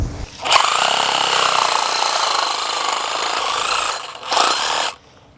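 Power tool cutting through a chain link fence top rail gives a loud, sustained grinding whine for several seconds, a brief dip, then a second short burst before stopping.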